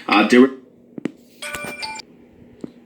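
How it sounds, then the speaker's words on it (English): A household alarm beeps in short electronic bursts, with a run of clustered tonal bleeps midway and a few isolated sharp beeps, following a brief burst of speech at the start. "Stupid alarm."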